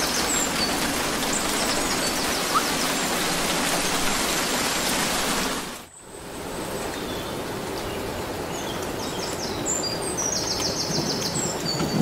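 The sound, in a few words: rain inside a rain globe in the video game Inside Out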